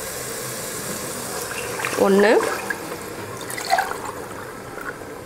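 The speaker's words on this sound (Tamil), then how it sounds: "இப்போ தண்ணி சேர்த்துடலாம்." Water poured into a cooking pot of soaked basmati rice, a short splashing gush lasting about half a second, with someone speaking Tamil before and after.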